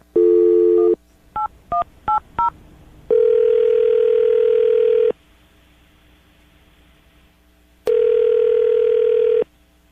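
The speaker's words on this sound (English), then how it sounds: "I'm going to dial the phone number." Telephone keypad tones sound in a quick series of short beeps. Longer steady tones come before and after them, with a pause between, heard clearly with no talking.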